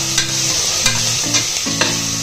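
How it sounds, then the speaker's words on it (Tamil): Tomatoes sautéing in a pan for paneer biryani, with a steady loud sizzle and frying hiss under short repeated scrapes of stirring, close up and with no voices. "தக்காளி சேர்த்துட்டு இதையும் நல்லா சுருளை வதக்கிக்கலாம்."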